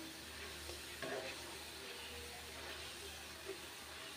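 Chanachur made from gram flour batter frying in hot oil, a steady soft sizzle throughout with a few faint stirring clinks, close and quiet.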